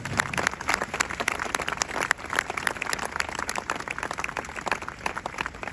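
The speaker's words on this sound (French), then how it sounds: "Vous pouvez les applaudir." An audience at a memorial gathering for victims of the Simchat Torah attack applauds warmly, with dense sustained clapping that carries on evenly from start to end.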